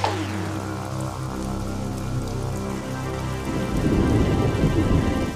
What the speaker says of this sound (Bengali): মুখের কথা শেষ হতে না হতেই বৃষ্টি শুরু হয়ে গেল।